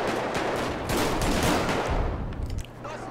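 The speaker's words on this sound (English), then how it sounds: "don't bring a pistol to an auto shotty fight" An auto shotgun fires in a GTA V firefight, a loud, rapid volley of heavy blasts booming close up for about two and a half seconds before cutting off, leaving a fainter tail.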